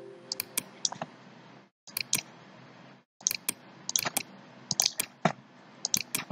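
Sharp, separate clicks from a computer mouse used in controller setup software, scattered irregularly over a few seconds with short silent gaps, close and fairly clear, with no one speaking.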